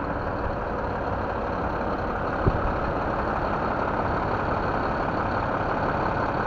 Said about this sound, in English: Got a truck beside me.